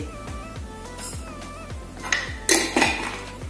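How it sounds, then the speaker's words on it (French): Metal spoon clinking against dishes and a jar while measuring half a teaspoon of green anise in a kitchen, with a few sharp, close clinks and scrapes over a low background hum. "je vais prendre juste une demi-cuillère à café d'anis vert"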